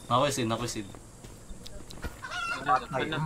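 A chicken in the Roblox game Consume clucks in short bursts, close and moderately loud, amid game sounds.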